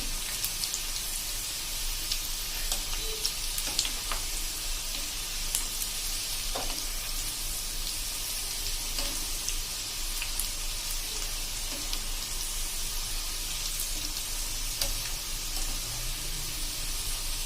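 A steady, even sizzle of okra fritters deep frying in oil on full flame runs throughout, with scattered small pops and crackles and no talking.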